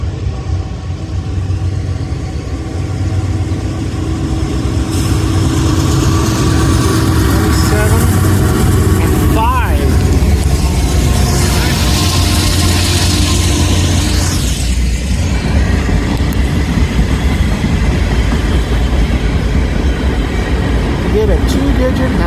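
A heavy northbound CSX mixed freight train rumbles past close by, a continuous low roar of engines and wheels that holds steady for the whole stretch.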